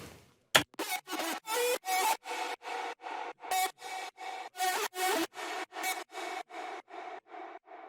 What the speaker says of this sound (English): So the screech is actually the vocal with a lot of EQs and distortion on it.